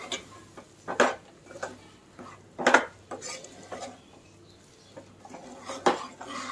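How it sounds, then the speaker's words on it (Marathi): A spoon scrapes and clinks against a metal pan in irregular strokes, close up, with soft stirring sounds between the louder knocks, as sprouted moth beans are stirred into spice masala for misal. "मटकी घातल्यानंतर पुन्हा हलवायचा आहे मसाला सर्व."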